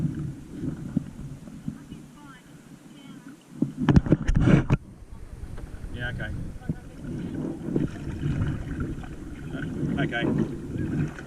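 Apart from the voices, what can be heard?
paddling a kayak with electric steering system on water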